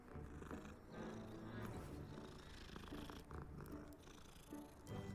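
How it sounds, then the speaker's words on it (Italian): A cat purrs steadily in Hogwarts Legacy gameplay, a continuous low rumble running through the clip with some game ambience mixed in. "Questo non è un gatto normale."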